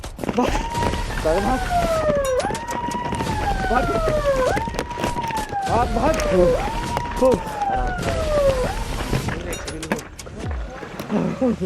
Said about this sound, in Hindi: फॉरेस्ट रेंजर्स ने सायरन बजाना शुरू कर दिया।